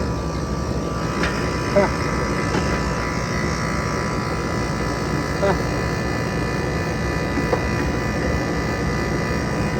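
A repaired Goodman air conditioner unit runs with a steady mechanical drone and faint tonal hum, occasional small clicks, while a person speaks briefly nearby.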